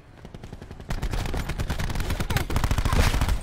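Sustained automatic weapon fire in Black Ops 4 as a quiet start gives way to dense, loud, rapid bursts that build and keep going close up, with no talk.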